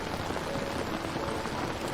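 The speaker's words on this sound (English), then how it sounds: "the steady, comforting rhythm of rain falling gently on leaves, a soft patter like distant whispers in the night" Gentle rain patters steadily on rainforest leaves at night in the Amazon, an even, dense hiss of drops with no pauses and no voices.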